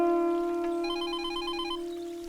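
A telephone rings indoors at home: one bright, warbling electronic ring burst over a steady tone, clear and close, lasting about two seconds.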